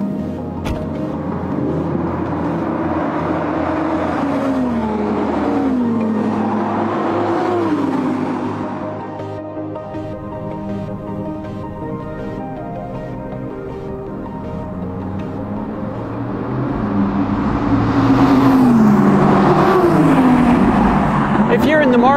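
A Lamborghini Aventador supercar drives on a race track, its engine revving up and down in loud, repeated surges, easing to a steadier drone midway before climbing again.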